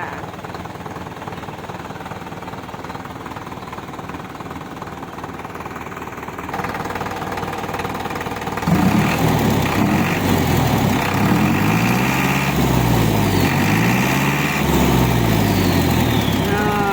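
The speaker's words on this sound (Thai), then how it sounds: "เสียงเครื่องนะคะ นิ่มๆไปเลย" A dump truck's diesel engine runs smoothly with a steady low rumble that grows louder and heavier partway through, close by. A voice talks over it.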